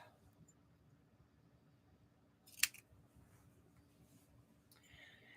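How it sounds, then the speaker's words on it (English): A single sharp snip of scissors trimming fabric quilt binding on a bear wall-hanging, quiet and close in a calm room with no talk. "I just go ahead and give them a little snip."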